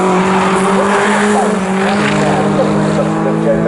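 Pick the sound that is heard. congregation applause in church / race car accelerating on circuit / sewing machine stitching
race car accelerating on circuit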